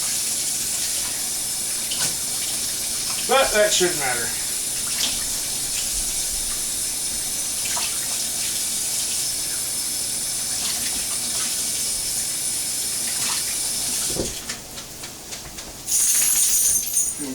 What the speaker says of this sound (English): wash your hands because cross-contamination is gross. And I'm on cold water here.